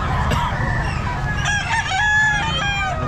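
A Sweater line Albany gamefowl rooster crows loudly and close, its long harmonic call rising over steady background noise and faint clucking from other fowl.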